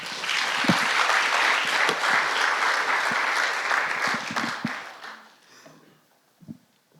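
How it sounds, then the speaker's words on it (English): Audience applause at a data competition finale: dense, steady clapping from a crowd for about five seconds, then fading to a few scattered claps. "Big applause."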